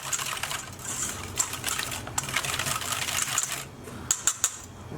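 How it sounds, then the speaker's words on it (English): A whisk beats a carbonara egg mixture with a quarter cup of parmesan in a bowl, giving rapid, busy ticking and scraping strokes at close range, with a few sharper clinks near the end. "And we're just going to start whisking this together"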